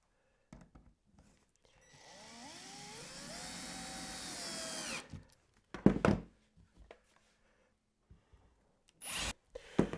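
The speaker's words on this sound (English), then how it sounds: "I'm going to drill and put a couple of screws in, one in each side" A power drill bores into wood for about three seconds with a rising whine, then comes a few knocks and clunks of handling, and a brief second burst of drilling near the end.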